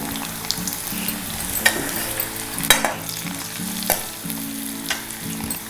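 Curry leaves hiss and crackle in hot oil during tempering, a steady close sizzle punctuated by a few brief stirring scrapes, with no talking.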